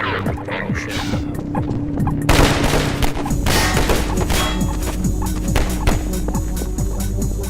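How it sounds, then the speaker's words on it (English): Dense bullet gunfire in Half-Life 2, a steady stream of sharp cracks and impacts with a few heavier bangs, loud and continuous throughout with no pauses. "Bullet audio."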